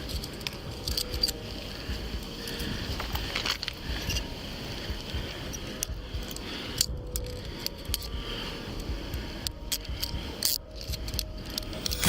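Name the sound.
keys jangling as they are taken from a bike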